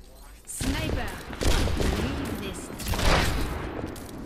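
Rapid bursts of sniper rifle fire in a Widow 1v1 video game match, loud, sharp reports arriving in several clustered volleys over a few seconds, close and punchy with a boomy tail.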